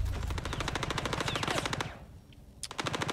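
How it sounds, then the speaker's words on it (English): Automatic gunfire in the space shooter Star Citizen, a loud rapid burst of shots hammering continuously for about two seconds, then a brief lull before another volley erupts near the end. "I've got at least two of them trying to shoot me from there."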